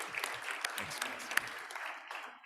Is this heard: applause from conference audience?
yes